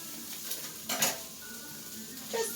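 A small pat of butter sizzles softly in a pan on low heat for a steak dinner, a quiet, even hiss with a couple of light utensil clinks nearby.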